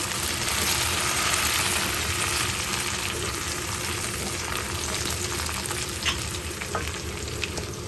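Whole cardamom and bay leaves frying with onions in a pan, a dense continuous sizzle with occasional stirring scrapes, close and steady throughout with no talk.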